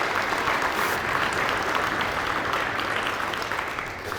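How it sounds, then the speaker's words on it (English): Dense, steady applause from a crowd at a community center expansion ribbon cutting, loud and continuous throughout with many hands clapping at once, close and full, with no talking over it. "let's give a round of applause"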